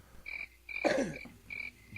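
Repeated bursts of steady insect-like chirping, played as a cricket sound effect, come in short even pulses with a louder croaky noise in the middle; no one talks.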